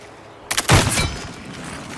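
A short, sharp volley of gunfire in the survival shooter Hunger, aimed at a creature's head in a forest setting. It sounds like a few quick cracks followed by a louder booming shot, then a fading tail, with no talking.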